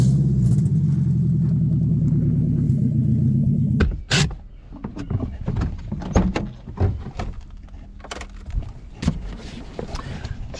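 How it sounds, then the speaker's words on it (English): A Nissan 300ZX with a swapped KA24DE engine idles with a steady, loud low rumble for a few seconds. A series of sharp clunks and knocks follows over a quieter background. "It sounds so healthy though. It's idling fine."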